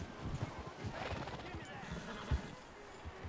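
Hooves of a horse in Red Dead Redemption 2 clop in uneven steps beneath game ambience, with a few sharper knocks standing out, while a character speaks over the scene.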